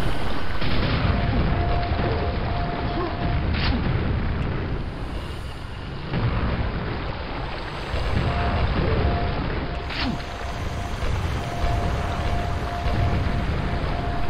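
Grenade blasts in the Quake video game, a dense, loud run of booming explosions that roll into one another with no pause over a continuous rumble.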